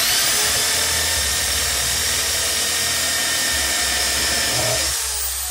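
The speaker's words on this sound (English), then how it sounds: "let's go ahead and drill our pilot holes." A power drill whirs steadily while boring pilot holes into a model airplane fuselage, a loud continuous motor whine that holds for several seconds before dropping off at the end.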